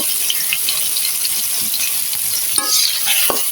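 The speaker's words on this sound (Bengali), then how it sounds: "পেঁয়াজটা এদিকে ভাজা ভাজা হতে থাক" Onions frying in a little oil in a pan send up a steady high sizzle, close and continuous, with occasional scrape and clink of a spatula stirring them.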